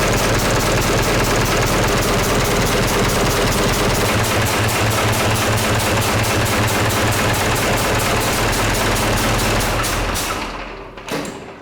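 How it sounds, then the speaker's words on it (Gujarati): A freshly assembled engine on a workshop bench runs steadily at idle, a loud continuous rapid chugging throb that holds for about ten seconds and then cuts off, with a couple of faint knocks afterward. "એન્જિન સ્ટાર્ટ કરી અને આપણે આઈડલ સ્પીડ એડજસ્ટ કરીશું"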